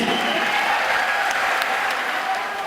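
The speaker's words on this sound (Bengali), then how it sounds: "একটু সবার জন্য আরো একবার জোরে করতালি প্লিজ" Loud, dense audience applause fills a Bengali New Year celebration stage show, sustained and steady throughout before easing slightly at the very end.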